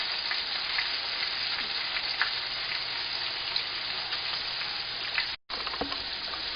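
Seasoned pieces of ruffed grouse fry in a pan, a steady close crackling sizzle with small pops, briefly cutting out before resuming.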